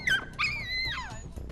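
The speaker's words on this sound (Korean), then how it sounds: "아숑이가 짖으면 깜순이도 따라 짖는다는 건데요." A dog that shrieks when it sees other dogs gives a quick string of high whimpering yelps and whines, rising and falling, loud and close with no talk.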